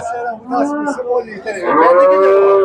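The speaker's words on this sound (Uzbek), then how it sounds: "Qaysi sigir ekan bu?" A cow at a livestock market in Shahrisabz lows in two close, loud moos, the second long and sustained, with no voices over them.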